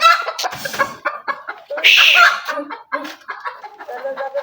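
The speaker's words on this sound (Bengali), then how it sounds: "এগুলো হলো টাইগার মুরগি" Tiger breed chickens clucking close by, with a series of short, uneven clucks and one louder squawk in the middle, loud and with no talk.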